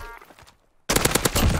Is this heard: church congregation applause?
no